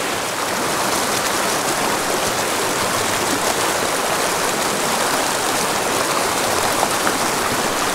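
A small mountain creek in Montana rushes over rocks in a steady, close, unbroken hiss of flowing water, with no voices.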